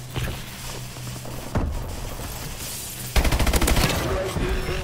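Gunfire in a military shooter video game: bursts of rapid automatic fire and single shots crackle through a busy battlefield mix, growing louder and denser near the end, with faint radio-style voices underneath.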